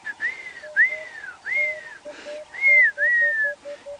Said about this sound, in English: You can hear there the emerald spotted wood dove.